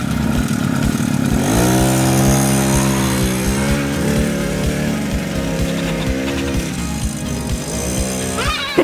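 A four-wheeler ATV engine idles nearby, then revs up with rising pitch and settles into a steady, rapid puttering drone that holds close and loud for several seconds before easing off.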